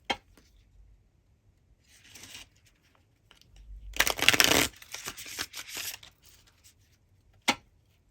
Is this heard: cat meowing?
no